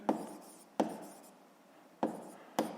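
A pen taps and scratches on paper in four short, close strokes separated by pauses, quiet in an otherwise still room.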